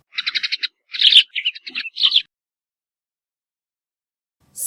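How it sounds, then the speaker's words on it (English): A small brown sparrow gives a quick series of bright chirps and short twittering notes, close and clear, followed by silence. "Sparrow."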